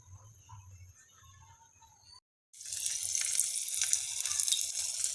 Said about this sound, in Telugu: ఇలా మన కడాయి నిండా పత్తిని వేసుకొని ఫ్రై చేసుకున్నామండి